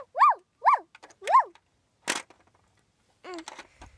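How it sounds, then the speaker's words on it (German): A dog yaps in a Playmobil children's audio drama, three quick, close, bright barks in a row, then a sharp knock and a further bark-like call after a short silence. "Wer bellt denn da so?"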